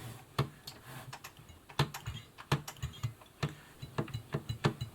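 A 1950s Singer 401A sewing machine with a suspected motor fault clunks as its hand wheel is turned, giving faint, irregular ticking knocks that repeat several times in a quiet room.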